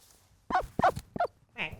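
A duck calling up close, three quick raspy honking quacks in a row followed by a softer nasal call, loud against a quiet background.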